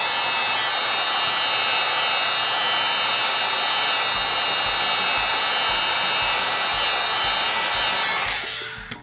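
A heat tool blows hot air steadily and loudly over a decoupage paper napkin on a pumpkin bread board, a continuous close whoosh that winds down at the very end.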